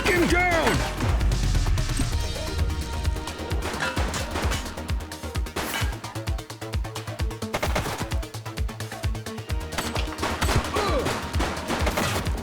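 Rapid gunfire in the police video game The Precinct, dense bursts of shots and crashing impacts that repeat throughout, loud and close, with occasional shouted voices over the shooting.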